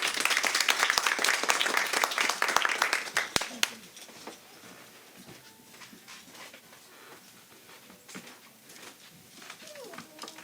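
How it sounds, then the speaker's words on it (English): Audience applause and clapping fill an open mic night at a bookstore, loud and dense for about three seconds before thinning into scattered claps and murmuring. "give a round of applause."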